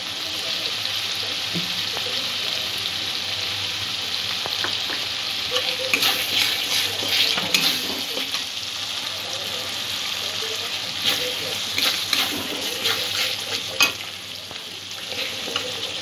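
Cashew paste goes into a pan of spice masala that is already frying, for a vegetable korma, and a steady sizzle carries on throughout with stirring and scraping rising above it in places.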